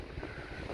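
Gusty wind buffets the microphone outdoors in Blackpool during a rainy storm, a steady broadband roar with slight surges and no speech.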